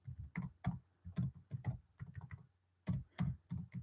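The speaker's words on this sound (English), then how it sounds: "I'll also type it in here for you." Bursts of typing on a computer keyboard, close and fairly clear, coming in short irregular clusters with brief pauses between them and no voice over it.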